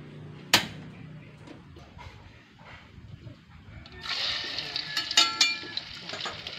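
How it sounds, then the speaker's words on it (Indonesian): Tofu dropped into hot oil in a home kitchen sizzles faintly, the frying rising into a brighter crackle partway through, with a few sharp clinks and pops over low background noise. "Tuangkan minyaknya dulu ya. Mama mau goreng tahu."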